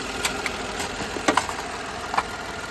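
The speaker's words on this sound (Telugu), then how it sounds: "ఇంజన్ బీటింగ్ అయితే చాలా స్మూత్ ఉందండి" A Datsun redi-GO car engine idles with a low, even hum close by, broken only by a few faint clicks and knocks, with no talking.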